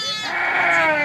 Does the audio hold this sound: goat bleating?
yes